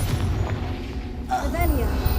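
A Confringo spell blast in Hogwarts Legacy, a low rumbling boom with a rising whistle of magical energy, layered over continuous game noise.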